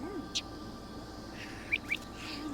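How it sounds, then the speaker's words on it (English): Birds chirp in The Sims video game, a few brief high calls over a steady low ambient bed in a quiet scene. "Love the sound of birds singing."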